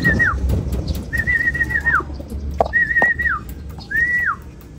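Racing pigeons arriving at a loft in Plaridel, Quezon after a 120 km training flight, with a repeated high whistling call sounding four times in an even rhythm, clear and close over faint background noise.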